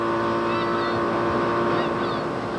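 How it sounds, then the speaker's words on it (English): Runaway motorboat circling at full throttle, a steady loud engine drone with whining tones and wind noise running throughout, close and continuous. "The boat was going in a pretty good full circle at full throttle"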